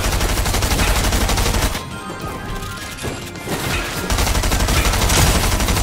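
Gunfire in the video game Fortnite, loud, dense rapid shots and crashing impacts that dip briefly mid-way before resuming at full intensity.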